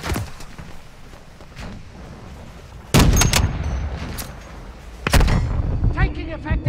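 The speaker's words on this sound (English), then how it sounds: "Taking effective fire!" Gunfire in Modern Warfare II DMZ, with sharp bursts of shots and loud booming blasts that crack in suddenly, near and heavy, over ambient battle noise with voices shouting in between.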